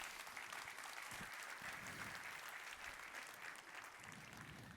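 Sustained applause from a church congregation, a dense steady wash of many hands clapping throughout, fairly distant and even, with no voices over it.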